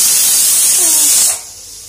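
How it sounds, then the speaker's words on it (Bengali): Potatoes frying in hot oil for a curry give a loud, steady, bright sizzling hiss that cuts off sharply after just over a second, leaving a quieter hiss. "তরকারির জন্য আলু ভেজে নিচ্ছি।"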